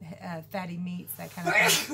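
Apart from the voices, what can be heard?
sneeze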